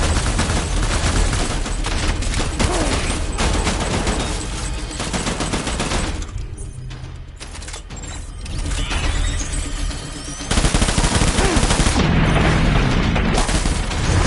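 Dense, continuous gunfire and explosions in the game Death Stranding, a loud unbroken barrage with brief lulls, then surging again.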